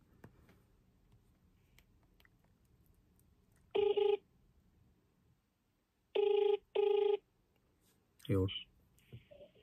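Phone ringback tones during a call, three distinct electronic rings about two seconds apart in an otherwise quiet room, followed by a short click as the line picks up.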